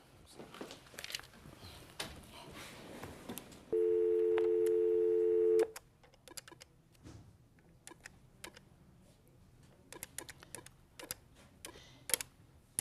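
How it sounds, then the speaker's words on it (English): A telephone call is placed from a judge's chambers, a steady electronic tone sounding for about two seconds, surrounded by faint clicks and ticking from the handset. "I'm going to go into chambers and call your mother, Mr. Harris"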